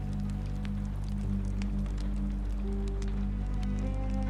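Steady rain patters continuously with soft scattered drops over a low, even background hiss, alone with no voices.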